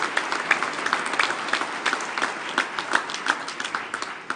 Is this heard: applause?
yes